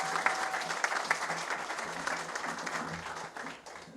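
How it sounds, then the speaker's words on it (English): An audience at a Kentucky political event honoring the state Attorney General breaks into steady, moderately distant applause that fades slightly toward the end, with no talk over it. "let's clap for our Attorney General"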